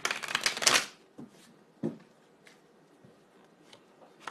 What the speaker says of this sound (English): as we shuffle.